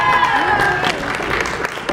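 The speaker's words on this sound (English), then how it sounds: "can we give first a big round of applause to our pianist for the evening" An audience at a method acting workshop for singers applauds the evening's pianist, a dense patter of clapping and crowd noise with voices and a sung tone mixed in.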